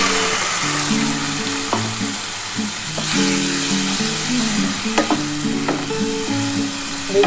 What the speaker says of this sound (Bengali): এবার এই যে পোস্তর জলটা এটা দিয়ে দিলাম